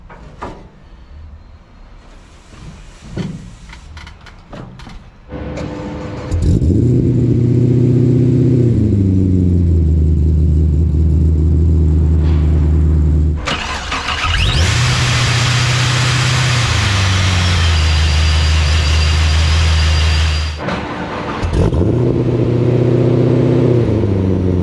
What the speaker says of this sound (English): That's a cold start with the Magnaflow mufflers, much quieter than it used to be.